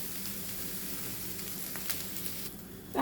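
Ivy gourd thoran stir-frying in an open pan over high flame, a steady close sizzle with faint scrapes of stirring and a louder clatter right at the end.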